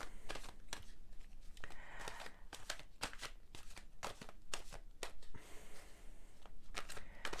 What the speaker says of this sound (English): I'm just going to shuffle it like this.